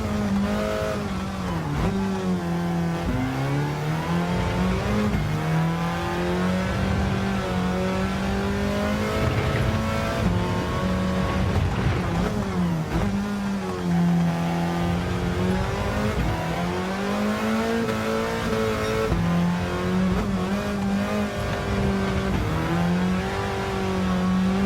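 A race car in Gran Turismo 7 revs hard around a track, its engine note climbing and dropping through repeated gear changes in a loud, continuous whine with occasional tyre squeal and no speech.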